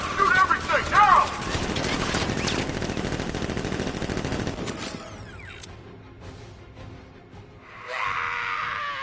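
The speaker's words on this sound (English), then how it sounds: "Guard! Open fire! Shoot everything! Now!" Guards in a PS4 game open fire in a loud, continuous rattle of automatic gunfire with mechanical clatter, running steadily for several seconds before cutting away to quieter game sounds.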